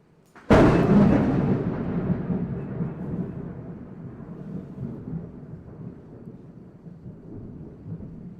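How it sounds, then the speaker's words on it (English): A storm brewing outdoors sends a sudden sharp thunderclap, followed by a long, low rolling rumble that slowly fades over several seconds. The thunder is loud and heard alone, with no talking. "there's a storm brewing"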